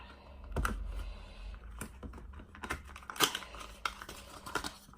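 Makeup packaging for a powder blush palette being worked open by hand, a string of close, sharp clicks, crinkles and small tearing snaps coming in irregular bursts with no voice over them.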